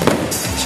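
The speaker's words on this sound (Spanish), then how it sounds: "Fuegos artificiales" Fireworks at an outdoor truckers' festival night show burst in a short, loud crackling blast with a dense, booming wash of noise.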